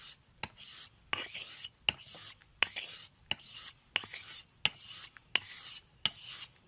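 Dovo Sunday Shaver straight razor stroked along a coticule honing stone, about a dozen short rasping passes in a regular rhythm with quiet gaps between them, close and fairly soft.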